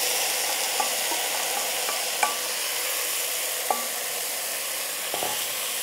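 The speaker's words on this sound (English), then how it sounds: "So to this, I'm just going to put my tomatoes." Tomatoes go into a pan of caramelized onions for a vegan biryani, giving a steady, soft frying hiss with a few light stirring clicks and taps scattered through; no one speaks.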